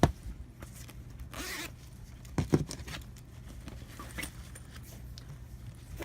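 A makeup bag zipper is pulled open in a quick rasping burst, with soft handling rustles and light taps before and after, close by.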